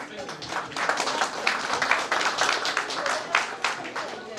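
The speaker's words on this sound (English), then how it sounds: "Please give a clap." Clapping from an audience at an award presentation, a moderate burst of many hands patting in an uneven rhythm, with a voice talking over it.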